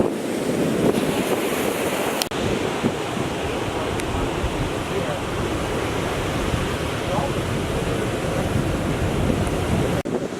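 Ocean surf breaks on the beach at Blowing Rocks, Florida, as a steady, loud wash of waves mixed with wind buffeting the microphone, continuous throughout.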